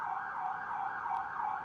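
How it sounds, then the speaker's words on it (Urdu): A wailing emergency siren plays as a sound effect during a presentation, a steady oscillating tone heard alone and at moderate loudness throughout. "ان کو سائرن کی آواز آتی ہے."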